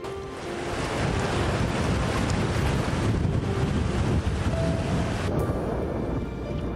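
Steady roaring surf and wind noise buffeting the microphone, a continuous loud wash of rough ocean waves off Jeju Island, with no voices.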